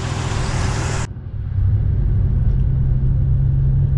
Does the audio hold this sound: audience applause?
no